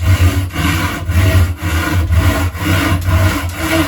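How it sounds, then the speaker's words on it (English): A hand saw cuts through wood in quick, even back-and-forth strokes, about two per second, each a close, loud rasping scrape. "the sharper your saw is, the better it will cut through these last fibres"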